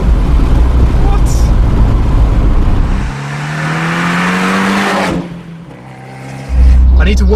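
Abarth 124 Spider engine revving hard through the gears, loud and close, with a shift and exhaust noise midway and speech mixed in.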